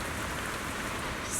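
Steady rain falls in a Zenless Zone Zero scene, a dense, even hiss of drops pattering on surfaces throughout, close and continuous with no voices over it.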